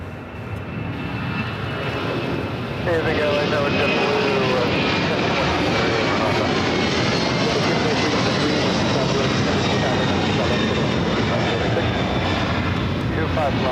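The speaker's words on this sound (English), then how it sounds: "It's UPS flight 903 headed to Louisville on a 767-300ER" A UPS Boeing 767-300ER at LAX gives a loud, steady jet engine roar that swells after a few seconds and holds, close by and continuous, with people talking over it.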